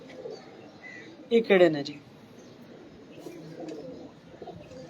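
Pigeons at a loft coo in one short, loud burst midway, with quieter cooing and chirps around it and someone talking over them.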